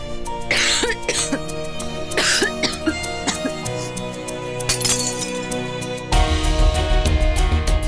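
A woman, Shivangi, coughs repeatedly in irregular fits, some harsh and some throaty, close and prominent over dramatic background music that swells louder toward the end.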